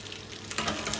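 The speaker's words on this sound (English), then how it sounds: "want to sizzle these until they are crisp and open up like a flower" Capers frying in a hot pan, giving a steady close sizzle with brief stirring scrapes that grow louder toward the end.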